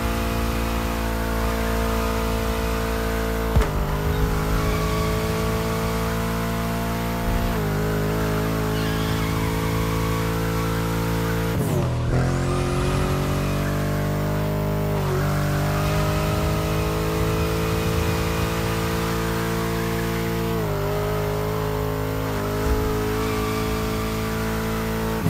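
A BMW M5 engine in The Crew Motorfest racing game roars steadily while drifting, holding a loud sustained rev with brief dips and swells as the throttle is lifted and reapplied, continuous and close, no talking.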